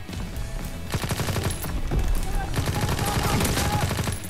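Rapid bursts of submachine gun fire in Call of Duty WWII, a World War II shooter game, crackling in dense rattling volleys across the whole stretch with scattered distant shots and game effects layered in.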